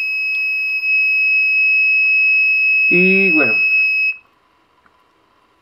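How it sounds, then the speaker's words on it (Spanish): A piezoelectric buzzer on a radio-controlled alarm with a 500-metre range shrills loudly and steadily for about four seconds, then cuts off abruptly, with someone speaking briefly over it. "Ahí está fallando el zumbador."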